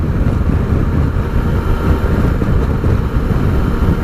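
A Triumph Tiger Sport motorcycle's triple engine hums in a dense, loud, steady drone while riding, mixed with heavy wind rush and no speech.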